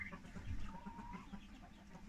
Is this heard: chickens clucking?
yes